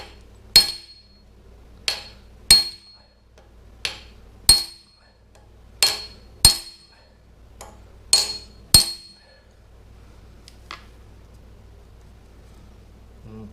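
A hammer strikes a big brass drift seated in the centre of a crankshaft pulley on a Farmall Super M tractor engine, nine sharp metallic blows at an uneven pace with ringing clinks, close and loud, then silence.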